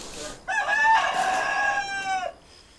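A rooster crows at sunrise over the mountains, one long drawn-out cock-a-doodle-doo lasting nearly two seconds, loud and close against a quiet morning.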